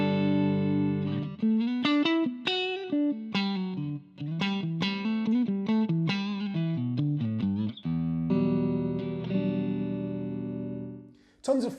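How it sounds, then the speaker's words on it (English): Clean electric guitar on the neck pickup through a Roland Micro CUBE GX amplifier plays a quick melodic lead line of single notes and bends, then sustained chords, close and clear with no talking. "my clean tone on the neck pickup of this guitar sounds like this"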